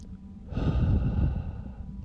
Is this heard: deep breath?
yes